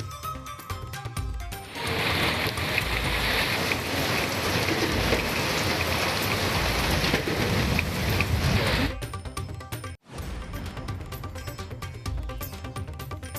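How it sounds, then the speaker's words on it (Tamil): Heavy rain pours onto a flooded road in Tirukkoilur, a steady broadband hiss of water that holds for several seconds, then drops away abruptly, with other sounds before and after. "திருக்கோவலூரில் கொட்டிய மழையால் சாலையில் பெருக்கெடுத்த தண்ணீர்."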